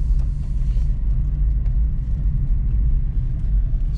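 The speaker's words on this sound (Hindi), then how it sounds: "सॉरी एक कार आ रहा है उसको जाने देते हैं पहले।" A car approaching and driving past on a street: a loud, steady low rumble of engine and tyres, close by, with no talking.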